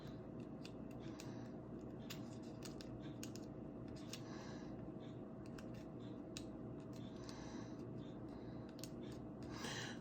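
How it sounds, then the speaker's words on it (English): An iPhone 7 replacement screen clicks into place with small, close plastic snaps, scattered across a steady low background hum. "You can hear it clicking in and feel it clicking in good."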